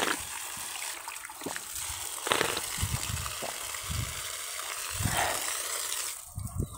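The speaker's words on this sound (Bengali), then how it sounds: "বাহ, পানি বেরিয়েছে, দেখি একটু পানি খাওয়া যাক" Water gushes and splashes from an outdoor drinking water tap on a village path, a steady rushing stream broken by intermittent spattering bursts.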